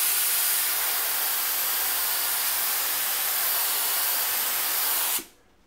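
A paint spray gun atomizes thinned paint in a continuous loud, even hiss for about five seconds, then cuts off abruptly into near silence.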